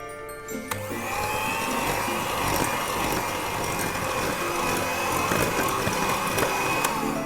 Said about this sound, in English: So I'm going to beat this again for some time until everything is mixed together.